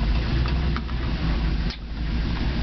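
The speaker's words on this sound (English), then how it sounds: "Alright, so the engine's running." A Megasquirted Jeep TPI engine idles close by, holding a steady low rumble with an even hum for a few seconds, with no voices over it.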